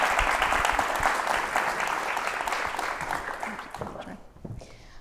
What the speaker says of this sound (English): another round of applause for Pavitra Raja and Tell It